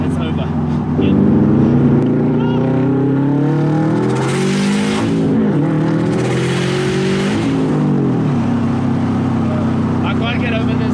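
Subaru WRX STI engine and exhaust from inside during a ride-along, loud and sustained, revving up through gears with rising and falling pitch, shifting around the middle, with a breathy exhaust rush; people talk over it.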